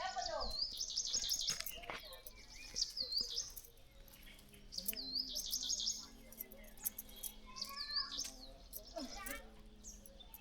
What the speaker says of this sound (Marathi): बघा पक्ष्यांचा किलबिलाट सकाळ सकाळी.